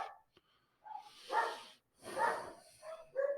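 Several dogs bark in short, separate bursts, fairly close and moderately loud, with quiet gaps between them.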